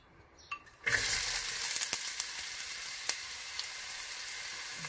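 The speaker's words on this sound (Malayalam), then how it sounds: "ഇനി നമുക്ക് സവോള ഇട്ട് കൊടുക്കാം" Sliced onions dropped into hot coconut oil in a pan, a sudden burst of bright sizzling that settles into a steady close crackle with a few clicks and scrapes.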